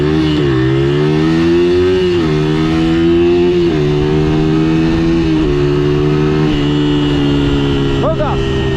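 Harley-Davidson motorcycle engine running loud and close, with a rumbling drone that rises and falls through several gear shifts as it accelerates, voices talking over the engine noise.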